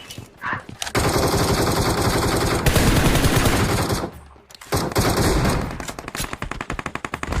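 Rapid bursts of video-game gunfire, loud and close, with sustained automatic fire broken by brief pauses and single shots.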